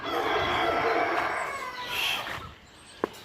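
A rooster crows once in a long, loud, harmonic call that holds for about two seconds and then tails off, followed by a short sharp click near the end, with no talking.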